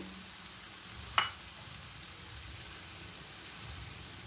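Cooked rice going into a hot pan of Chinese-style fried rice gives a steady, soft sizzle and crackle throughout, with one sharp clink of utensil against the pan near the start.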